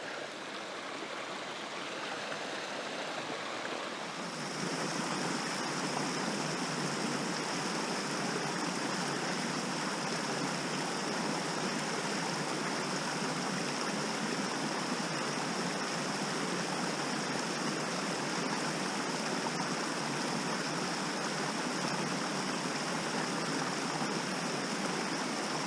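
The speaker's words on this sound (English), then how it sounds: "water flowing over the stones." Water rushes steadily over stones in a Dartmoor river, a continuous close hiss and gurgle that swells to full strength after a few seconds.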